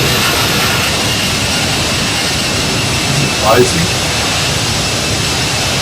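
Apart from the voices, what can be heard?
Toliss A319 jet engine in video game X-Plane 12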